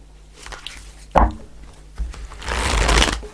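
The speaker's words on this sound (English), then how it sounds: "I pull 5 cards." Tarot cards shuffled and pulled from a deck, a soft riffle followed by a sharp snap and then a longer papery shuffling burst, close and alone.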